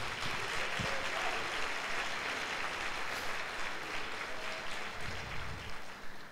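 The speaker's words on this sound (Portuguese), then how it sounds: "Dê um aplauso a Ele" A church congregation at a Sunday service gives sustained applause, a steady roar of many hands from the hall that holds evenly for several seconds, with a few low thumps mixed in.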